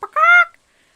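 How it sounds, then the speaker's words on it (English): A Stardew Valley chicken clucks after laying an egg, a single loud, close honking squawk lasting under half a second, then silence. "the signature chicken sound"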